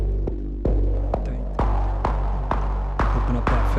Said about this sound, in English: Dial in some more noise, noise oscillator.